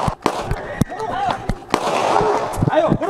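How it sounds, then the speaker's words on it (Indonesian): Police warning shots crack out in a street in Bangkalan, East Java, while officers chase a motorcycle thief: several sharp, loud bangs at uneven intervals among shouting voices and street commotion. "polisi melepaskan tembakan peringatan saat meringkus pelaku curanmor di Bangkalan, Jawa Timur"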